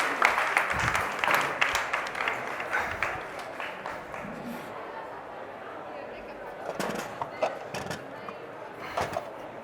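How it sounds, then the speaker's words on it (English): A cooking demonstration crowd gives a chef named Rick light, scattered applause that fades after a few seconds. Talking continues over the quieter remainder. "You can give Rick a round of applause"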